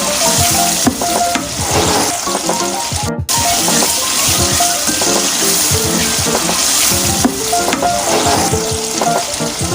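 Masala for a kidney bean and black-eyed pea curry frying in oil, with crushed chillies added, a loud steady sizzle broken by frequent scraping stirs, up close with no talking.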